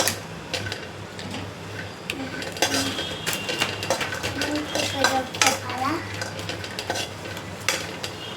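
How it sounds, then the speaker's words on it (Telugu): Dry fruits lightly fried in a pan while a utensil stirs and scrapes, giving repeated clinks and scratches over a soft sizzle, close up and moderately quiet. "కానీ మేమైతే లైట్గా ఫ్రై చేసుకుంటున్నాము."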